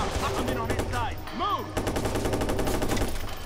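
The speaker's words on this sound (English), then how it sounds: "Where the hell are they shooting?" Rapid bursts of automatic gunfire rattle continuously in the Watch Dogs video game on PC, with a voice briefly heard over the shooting.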